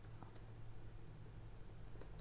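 Faint, sparse keystrokes tap on a computer keyboard while HTML code is entered, a few soft clicks spread out over a low, steady hum.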